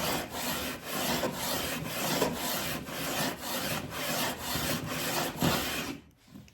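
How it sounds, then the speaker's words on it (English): A sanding block is rubbed back and forth over a wooden stem for a skin-on-frame boat, making a loud, close, rhythmic rasping with about a dozen even strokes before it stops. "I'm going to take this sanding block right here"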